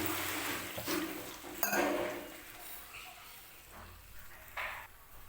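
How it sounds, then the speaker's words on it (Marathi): Water pours and splashes into a steel mixer jar in a home kitchen, with faint clinks of metal against the jar, soft and close, rising and dipping in short bursts against a steady background hiss. "आणखी थोडंसं पाणी ओतणार आहे मी"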